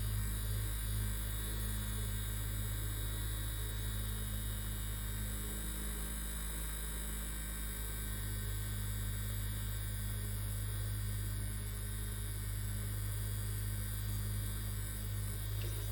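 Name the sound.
electric fan blowing to dry glue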